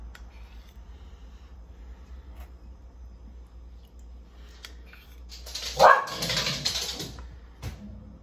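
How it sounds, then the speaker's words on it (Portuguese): A dog barks a few times in the background of a home kitchen where cheese bread is being made, the barks moderately loud against quiet room noise. "Esse latido no fundo foi a Penélope."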